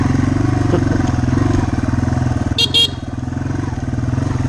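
Yamaha TW200 motorcycle cruising in third gear at a steady pace, a loud, close single-cylinder engine drone throughout with a brief high-pitched chirp partway through.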